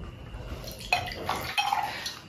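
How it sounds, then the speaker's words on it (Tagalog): Lambanog coconut liquor is poured, with light clinks of glass or dishware and a soft liquid splash, close and fairly quiet. "kunin yung lambanog, isalin"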